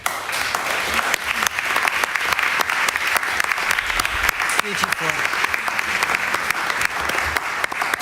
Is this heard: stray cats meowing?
no